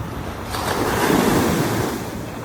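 Sea waves wash steadily onto the shore, a broad surf roar that swells toward the middle and eases off, with wind buffeting the microphone throughout and no voices.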